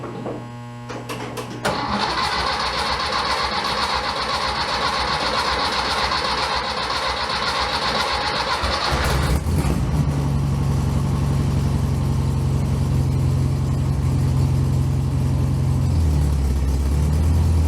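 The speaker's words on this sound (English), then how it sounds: "Cold start." A 1964 VW Bug engine started cold on a mild day: a short cranking burst, then the air-cooled engine catches and settles into a loud, steady, close idle with a deep rumbling undertone.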